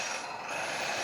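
A small RC bulldozer digging, giving off a steady whirring, ratcheting mechanical grind of motor and gears, close and continuous with no talk.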